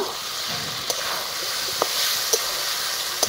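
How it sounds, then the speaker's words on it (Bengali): Potatoes with green chilli and turmeric sauté in a hot pan, giving a steady, close sizzle with occasional sharp ticks as the spatula stirs, and no voices. "তারপরে আবারও কষিয়ে নেব"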